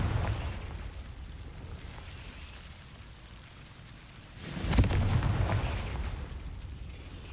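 A Confringo fire spell exploding in Hogwarts Legacy, a sudden crackling burst over steady ambient hiss, followed by a sustained, noisy roar that slowly settles.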